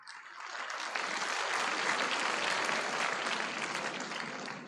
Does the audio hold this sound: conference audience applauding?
yes